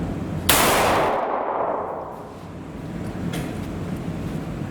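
A single loud, close shot from a Bond Arms Roughneck .45 pistol cracks out and then rolls away in a long, fading outdoor echo.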